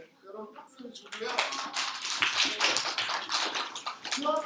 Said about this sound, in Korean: 여러분 박수를 주고요